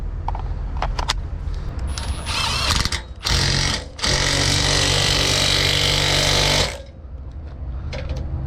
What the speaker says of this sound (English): Let's get this jack in here and see how this works.